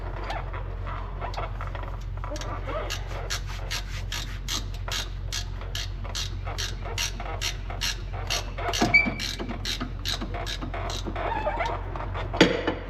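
A ratchet wrench works a bolt loose in a tight space, giving off a rapid, even run of sharp clicks that goes on for several seconds with a few louder knocks. The sound is close and fairly quiet, and no one speaks.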